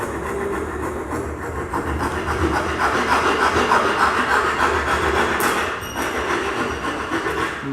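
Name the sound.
coarse file shaping wood by hand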